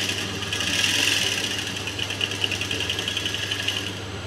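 Electric sewing machine running steadily while stitching a blouse, a continuous motor hum with a fast mechanical needle chatter that becomes more pulsed toward the end, close and fairly loud.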